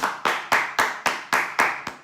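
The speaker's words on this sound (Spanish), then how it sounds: "¡Oh, sí! Un aplauso," A single person claps hands in a steady, even rhythm, about eight sharp, close claps in quick succession with nothing else in the background.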